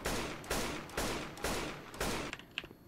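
AK rifle fire in the zombie shooter Left 4 Dead 2: five loud, evenly spaced shots about half a second apart, each with a short crack and decaying tail, ending in a few faint clicks.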